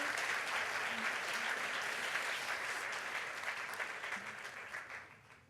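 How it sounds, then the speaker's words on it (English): A school assembly audience at an anti-bullying event applauds student volunteers coming to the front, sustained dense clapping with faint voices underneath, tapering off toward the end. "Round of applause for the girls coming down."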